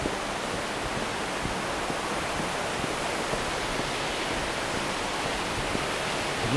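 Steady roar of a waterfall at Kawazu Seven Falls, Japan, an unbroken rushing wash of water that holds level throughout, with no voices.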